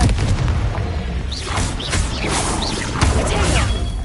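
Confringo explosive spell in Hogwarts Legacy: a cluster of booming blasts and crashing impacts with whooshing tones, loud and dense over about four seconds.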